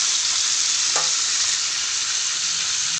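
Bisugo fish frying in a pan, a loud, dense, even sizzle filling the whole moment with one brief scrape near the start, no talking.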